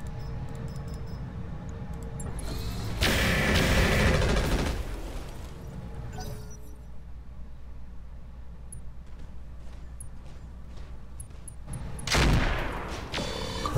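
Bursts of AC-5 autocannon fire in the mech combat game Roguetech, two loud volleys a few seconds apart with quieter battle noise between them.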